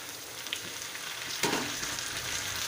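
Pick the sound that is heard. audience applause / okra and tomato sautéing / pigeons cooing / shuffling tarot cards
okra and tomato sautéing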